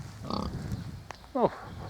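A pig grunts near a puddle it has just climbed out of in a vegetable patch being tilled, giving a short burst of rough grunts late in the clip after fainter grunting and noise earlier on.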